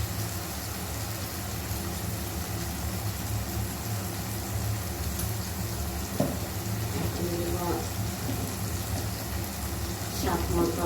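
Dried chillies sizzle in a hot pan of oil while eggplant bhorta with capsicum is cooked, giving a steady, soft hiss and crackle with a few sharper pops.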